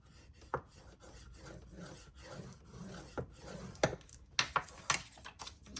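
A scoring tool rasps along double-sided paper for a mini album, giving a run of short scratchy strokes and taps at close range, uneven in rhythm, with no talking.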